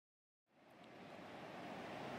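Ocean surf at Surf Beach, California rolls in as a steady broadband wash that begins abruptly and builds slightly, with no voices over it.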